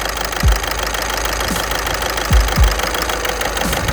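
Car engine idling rough with the number 2 fuel injector disconnected, a steady close mechanical drone broken by a few low thumping stumbles and misfire dips.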